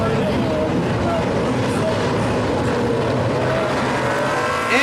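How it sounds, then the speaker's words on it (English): Street stock race cars circle a speedway oval two by two during the pace lap before a heat race, their engines a steady, loud, continuous rumble with a passing-by swell, while a commentator talks over the noise. "The cars are rolling, heading around the track, getting sorted out."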